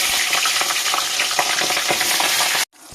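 Cauliflower fries in a pan of vegetables, a loud continuous sizzle with crackling pops and stirring, ending abruptly in near silence.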